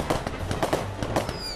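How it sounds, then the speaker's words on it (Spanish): Fireworks go off at a nighttime Canarian wedding celebration, a dense run of loud crackling bangs and pops in quick succession, with faint voices in the background. "Ahí sellan ese amor con un beso, con los fuegos artificiales."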